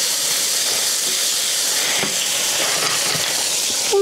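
Seasoned green beans cooking in a pan give off a steady, loud hiss and sizzle with faint stirring scrapes, close by and with no talking.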